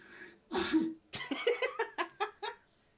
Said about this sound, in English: First sneeze of the video.